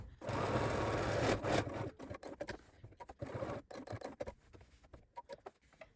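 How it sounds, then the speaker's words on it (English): A home sewing machine fitted with a walking foot stitches patchwork fabric for a hoodie, a steady rapid whirring run at first, then stopping and starting in short irregular bursts, close and fairly quiet with no talk. "with my walking foot, it does a really great job of making sure the fabric is going through really evenly"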